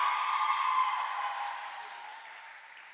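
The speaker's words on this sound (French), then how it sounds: "On l'applaudit encore une fois." A short burst of audience applause for a child singer at a children's choir event, starting strong and fading away over a few seconds.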